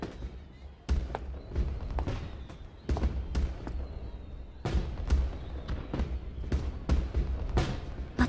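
Fireworks bursting in an anime scene, a run of loud thumps and booms at irregular intervals over a continuous low rumble, with no talk.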